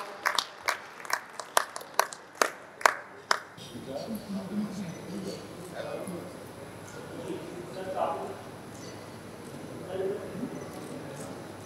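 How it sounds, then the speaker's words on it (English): A few scattered, sharp hand claps from an audience at a certificate ceremony, about a dozen distinct claps over the first few seconds, then giving way to murmuring voices and room noise. "Please give him a big round of applause."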